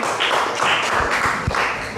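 A classroom group claps for everyone, a short burst of applause with a few distinct taps and thuds standing out, close and fairly loud.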